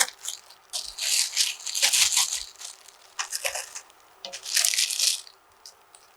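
Crushed ramen noodles tipped from a bag into a pot, giving bursts of dry crinkling, crunching and rattling pieces, close and fairly loud in several clumps.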